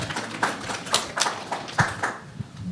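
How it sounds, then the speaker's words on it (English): Sparse, scattered hand claps from a small audience, a handful of distinct claps spaced irregularly across a few seconds, moderately close. "applause."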